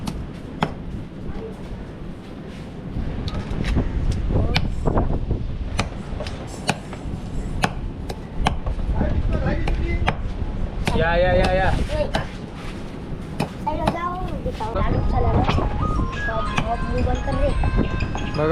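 Knife chopping through scaled fish into pieces outdoors, a string of sharp, repeated chops cutting through steady background noise, with people talking nearby throughout.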